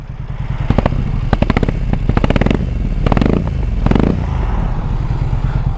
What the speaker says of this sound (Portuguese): Parece que tá trabalhando com um cilindro só.